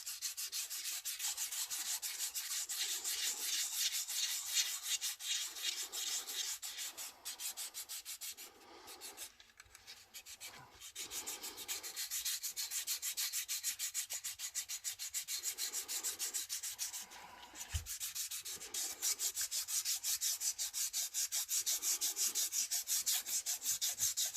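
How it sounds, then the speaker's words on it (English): A tongue depressor drags steadily across a surface to smooth it, a close continuous soft rubbing that swells and eases in a loose rhythm. "I'll start with the tongue depressor, and then I'll smooth it like a finger"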